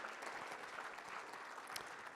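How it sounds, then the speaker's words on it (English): A crowd at a safety kickoff meeting claps together, a short, even patter of applause at moderate distance with no clear voices over it. "give yourselves a round of applause"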